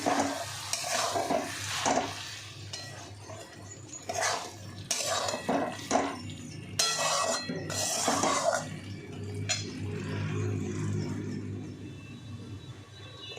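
Fish cooking in a pan with cumin powder added, a steady sizzle broken by repeated clattering scrapes of a utensil against the pan, close and fairly loud.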